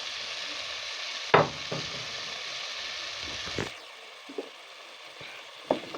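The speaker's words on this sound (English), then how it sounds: "So next I'm going to add the boiled meat." Boiled beef goes into a frying pan of cooked tomatoes for an African beef wet fry, a steady sizzle broken by a few knocks of stirring, and the hiss drops noticeably partway through; no voices.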